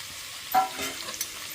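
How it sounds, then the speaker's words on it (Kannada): Fresh green peas tipped into a hot frying pan give a soft clatter and brief sizzle, with a light stir following, faint and close with no talking. "ಇವಾಗ ಹಸಿ ವಟಾಣಿನೂ ಹಾಕ್ಲತ್ತೀನಿ ನೋಡ್ರಿ"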